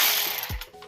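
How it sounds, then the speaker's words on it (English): A ratchet turns a 10mm socket to tighten a brake bracket bolt on a Mustang GT during a big brake install. It gives a quick close burst of clicking pawl ratchets, brief and fairly loud, with no talk. "Put my 10mm socket on it."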